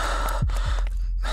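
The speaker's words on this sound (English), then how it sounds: "I can't even stop breathing so heavy." Heavy, ragged gasping breaths from a player in the horror game Folklore Hunter, Night of the Wendigo, close and loud, with a couple of sharp intakes over steady game ambience.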